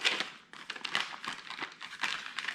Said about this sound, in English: we're gonna zipper that closed.